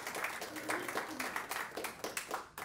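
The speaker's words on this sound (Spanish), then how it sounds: "Felicidades y un aplauso para ellos" A church congregation applauds the parish choir during Mass, a faint, steady run of rhythmic hand claps in a reverberant room with no voices over it.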